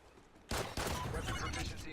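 Gunfire in the shooter game Call of Duty: Ghosts, Safeguard survival mode: a sudden loud burst at the half-second mark, then a dense sustained barrage of shots and explosions filling the rest of the stretch.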